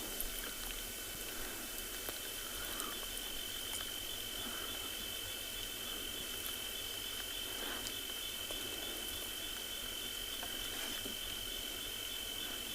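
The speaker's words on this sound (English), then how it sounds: "Lovely sound of the crickets." Steady, continuous cricket chirping fills the night air, a dense high-pitched trill with no voices, holding at an even level throughout.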